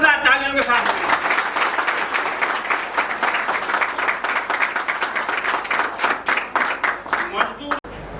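Loud, sustained clapping from a crowd at a workers' retirement farewell, filling the room for several seconds before it tapers off at the end.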